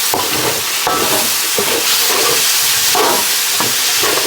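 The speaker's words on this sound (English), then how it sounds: "You're basically using the wine just to clean the pan and deglaze it and bring up all those bits." Hot pan deglazed with wine while cooking curry chicken, a loud dense sizzle and hiss with periodic scraping strokes lifting the browned bits, no voices.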